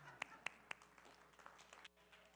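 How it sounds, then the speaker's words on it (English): A few scattered, soft claps from a small audience, three sharper ones early then a handful of fainter pats, a brief quiet golf clap over a low room murmur. "Golf clap for Chris."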